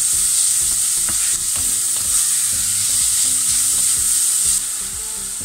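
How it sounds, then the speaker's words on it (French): Bacon lardons fry in a pan with a steady loud sizzle, broken by repeated scrapes and knocks of a utensil stirring them, no voices. "Je mets donc mes lardons"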